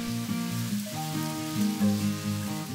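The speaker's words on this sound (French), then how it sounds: "mettre les pâtes de riz égouttées, attention aux projections d'huile" Drained rice noodles fry in hot oil with a steady, loud sizzle that carries tonal pan ringing throughout, with no voices.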